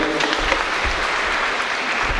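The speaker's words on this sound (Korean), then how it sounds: "두 사람에게 소중한 인연, 그리고 앞으로 함께할 인형인 안수빈님에게 다시 한번 감사의 박수 보내주십시오." Wedding guests at a main ceremony clap together in a steady, dense burst of applause that holds at an even level throughout, close and full without any voice over it.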